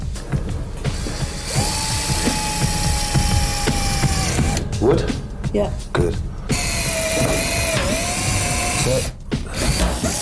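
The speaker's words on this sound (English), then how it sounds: "At last the screws are going in smoothly." Screws are driven into wood with a power tool during a salvage restoration, giving a loud continuous whirring and ratcheting with shifting pitch, while people speak briefly close by.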